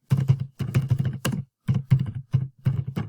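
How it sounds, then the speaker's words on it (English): Keys on a computer keyboard typed in quick bursts, close and clear, with short pauses between clusters of keystrokes as a name is entered into a fitness report form. "So in the name, we're going to type Daniel Pridham"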